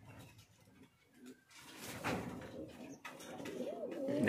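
Fancy pigeons coo in a home loft, soft repeated throaty calls rising in a steady cluster toward the end, fairly close against a low room hum with no talk.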